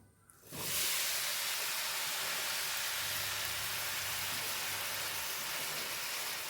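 Onions dropped into a hot pan break into a sudden loud sizzle that holds steady and close, a dense hiss that lasts to the end.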